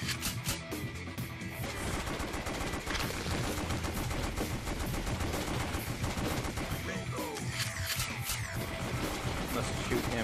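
Rapid gunfire from The House of the Dead: Overkill, a light-gun shooter game, crackles continuously at high level while shooting targets, mixed with game music and effects, with a voice talking over it.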